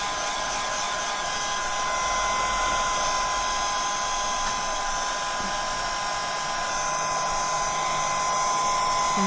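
A hair dryer blows steadily on a drying lighthouse diorama, a loud continuous whirring whine with an airy rush that holds unchanged throughout, with no talking.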